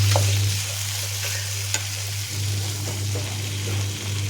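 Bottle gourd pieces frying in oil until golden, a steady close sizzle with occasional soft stirring scrapes over a constant low hum.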